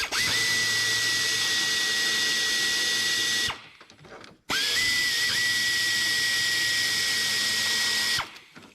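A power tool loosens 10mm bolts on a Saturn transmission in two long, loud, steady whirring bursts, each running a few seconds, with a short quiet gap between them.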